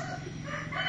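A chicken near grain drying in front of a house gives a brief, moderately close crow or cluck over faint background noise.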